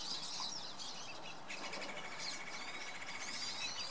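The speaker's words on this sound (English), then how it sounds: "the birds be going a little nuts today." Many sparrows chirp and twitter continuously at a distance, a busy, overlapping chorus with faint outdoor background noise.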